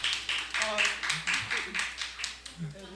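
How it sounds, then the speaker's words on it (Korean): A church group at a Sunday afternoon service claps in a quick, even rhythm, the crisp beats repeating steadily from nearby while people talk over them. "박수 나옵니다"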